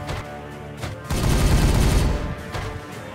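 Heavy gunfire crashes out in the video game Regicide, a loud sustained burst of overlapping shots and booms that swells for about a second and then fades back into quieter battle noise.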